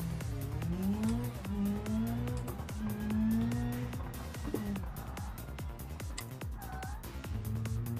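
Rally car in the BeamNG driving game on a tarmac stage, engine note rising and falling through gears with a braking squeal into a corner, steady and close throughout with no talking.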